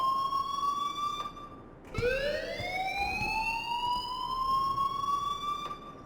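Alarm from the game Life Is Strange: a loud, sustained electronic wail that drops abruptly and then climbs again in pitch, repeating like a siren with no voices over it.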